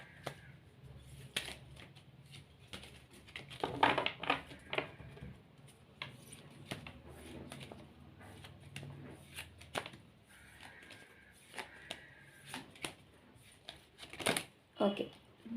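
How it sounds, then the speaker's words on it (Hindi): Cards from an angel prayer deck are shuffled and drawn, giving scattered close flicks and riffling snaps that come and go while someone talks. "एक कार्ड यहाँ से निकालूंगी मैं।"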